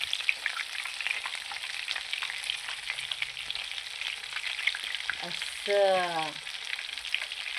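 Chicken lollipops deep frying in hot oil at home, a steady loud sizzle and crackle throughout, with a brief spoken word near the end.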